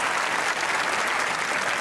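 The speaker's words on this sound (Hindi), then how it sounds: "ओ भाई ताली होनी चाहिए" A studio audience at a television talk show applauds continuously, a dense, even wash of many hands clapping at once, loud and close, with no speech over it.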